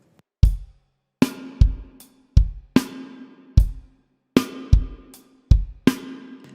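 A punk rock drum beat on a kit, one bar of kick and snare hits with cymbal wash, loud and close, eight evenly spaced strikes that ring out briefly between hits, with no voices.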